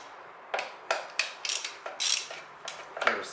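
Ratchet wrench clicking in short bursts while loosening timing belt bolts on a 1992–2002 Toyota Corolla engine, about eight quick ratcheting strokes close up, alone without talk.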